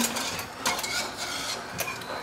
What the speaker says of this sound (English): So keep stirring